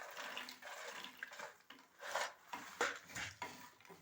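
Spiced makhana (fox nuts) roasting in a pan, stirred with a spoon: faint, irregular scraping and rattling of the puffed nuts against metal, coming in short bursts with soft pauses between strokes.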